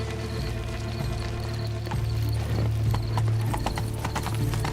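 Horse hooves clip-clop at a steady, rhythmic trot in The Witcher 3: Wild Hunt, Blood and Wine, moderately close over a low droning game ambience.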